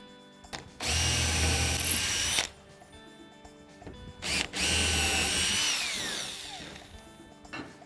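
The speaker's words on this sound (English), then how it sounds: "mark all those holes and drill it all out" A power drill whines loudly through timber, drilling rope-sized holes for a pot holder in two long bursts separated by a short pause, with faint clicks and handling noise between.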